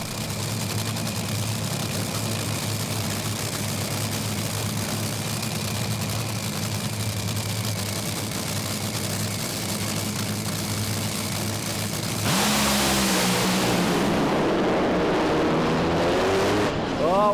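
A Top Fuel drag racing car in round one of a drag meet runs down the track with a loud, steady engine roar. The sound swells abruptly to a harsher, louder blast near the end.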